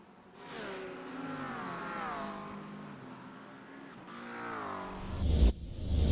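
Race cars lapping Watkins Glen in a sim racing game, engines rising and falling through the gears in one long sweep, then a second car revving up with a sharp burst near the end.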